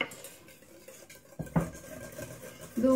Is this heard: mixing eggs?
yes